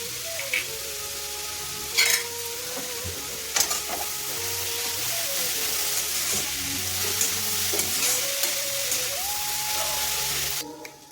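Ginger-garlic paste, chopped green chili and ground pepper fry in a pan for a veg momo filling: a steady, close sizzle broken by occasional sharp scrapes and clicks of stirring.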